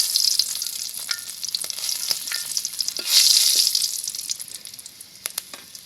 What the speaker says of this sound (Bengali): মাছ ভাজার তেলে দিয়ে দিব পাঁচফোড়ন